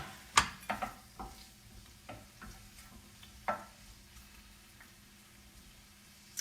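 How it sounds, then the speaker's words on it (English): Red pepper and carrots cook in olive oil, a soft background sizzle broken by several sharp clicks and taps of a spoon or spatula against the pan, the knocks fading toward the end. "we're gonna add the red pepper and the carrots to the olive oil and just let that cook out"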